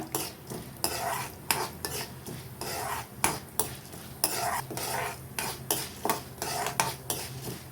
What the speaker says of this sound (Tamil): நம்ம அதாவது அடுப்பை சிம்மில் வச்சுட்டு வறுத்துக்குங்க